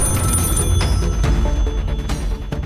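A telephone rings in a Marathi TV drama scene, a bright repeating bell-like trill that carries on steadily for a few seconds, loud and close, with no talking.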